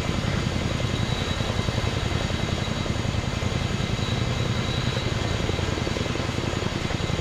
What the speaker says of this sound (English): Preston, if you need to get that chopper out of here, it needs to get in the air, mate.